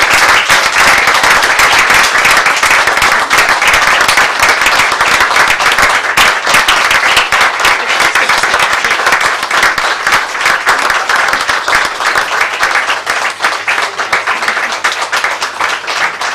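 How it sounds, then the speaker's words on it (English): Sustained, loud audience applause at a surgeons' diploma ceremony, many hands clapping in a dense continuous roar that holds steady for over fifteen seconds with little change. "give a big round of applause to all your parents, supporters, friends, and others"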